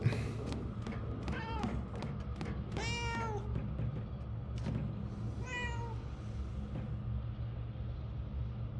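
A cat in the video game Murdered: Soul Suspect meows a few times in short, rising calls over a steady low rumble of background noise, with no one speaking.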